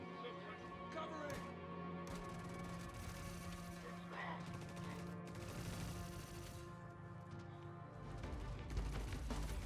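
Steady stream of gunfire during a shootout in the video game Star Citizen, faint shots layered under humming music and game ambience, with players talking over it.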